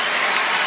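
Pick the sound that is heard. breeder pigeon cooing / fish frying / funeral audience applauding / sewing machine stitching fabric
funeral audience applauding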